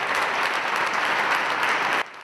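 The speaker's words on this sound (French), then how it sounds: "Applaudissements des hommes et femmes du monde de la culture dans cette salle Félix Houphouët-Boigny" Applause from an audience of culture figures at a funeral tribute in the Félix Houphouët-Boigny hall, a dense, steady wash of clapping that cuts off abruptly near the end.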